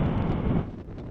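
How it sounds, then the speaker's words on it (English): Strong gusting wind buffets a motorcycle rider in a windstorm, a loud, broad roar that is steady at first and then eases slightly, with no voices. "it's so unpredictable when the wind is gonna push me"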